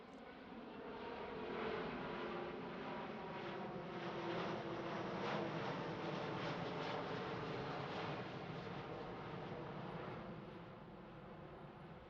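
An Airbus A350 airliner flies past during a display at Farnborough International Airshow, a steady broad jet roar swelling and holding at moderate distance, then easing slightly, with no talk.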